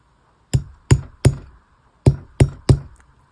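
A nylon hammer lightly taps wire jewelry, six crisp, close knocks in two groups of three, each ringing briefly before silence.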